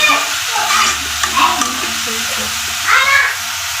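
Vegetable bhaji with coriander leaves stir-fried in a pan, a steady close sizzle with scraping stirs of a spatula and a few louder strokes, with no talking.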